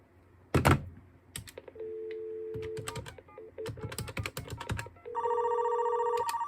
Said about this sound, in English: Now we can turn that feature back off by dialing *87.